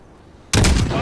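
A single sniper rifle shot goes off in the video game Call of Duty Modern Warfare, a sudden loud blast that breaks a quiet lull and rings out as it fades.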